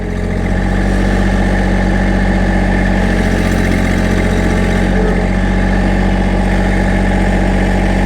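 Massey Ferguson GC1723e compact tractor engine running steadily at close range, a loud continuous drone with a constant low hum and no talk.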